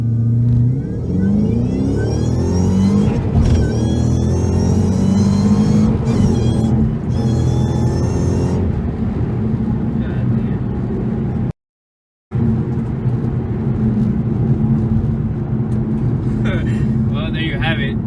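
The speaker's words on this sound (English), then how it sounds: "Gonna launch a little lower at 3." A Shelby GT500 on Weld S-71 wheels and drag radials launches with launch control at a low launch setting, its engine revving loud and close for several seconds, then a short gap before the engine keeps droning steadily.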